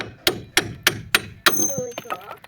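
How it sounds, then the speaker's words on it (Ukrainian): Five sharp metallic hammer strikes on bolts land at an even, quick rhythm while front shock absorbers are replaced on a Renault Master III, followed by a ringing clank and lighter knocks. "Беремо молоточок."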